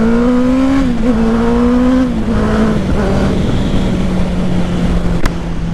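A Honda CBR650R motorcycle with a Black Widow full exhaust revs and shifts up through the gears, and the engine note drops at each change. The bike is loud and close, and no one speaks.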